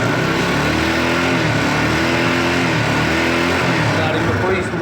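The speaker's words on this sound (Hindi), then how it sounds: "इंजन का आवाज़ बहुत ही स्मूथ है।" A 2018 TVS Apache RTR 160 motorcycle engine idles loud and close with a steady, even drone, while someone talks over it.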